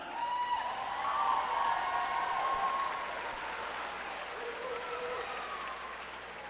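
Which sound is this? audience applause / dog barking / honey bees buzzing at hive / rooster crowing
audience applause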